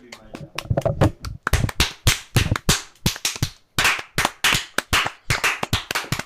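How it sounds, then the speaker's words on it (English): Sharp hand claps for a recording sync clap track, a rapid irregular series of loud, close smacks repeated throughout, with voices talking over them. "There's your clap track."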